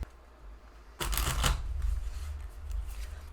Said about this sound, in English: I'm going to really quick shuffle these cards